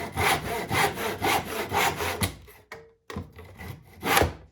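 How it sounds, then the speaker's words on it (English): A hand saw cuts through wood in steady back-and-forth strokes, loud and close, with rhythmic rasping pulses, then a brief pause and a few more strokes. "I line it up on my dot, and all I do is saw back and forth."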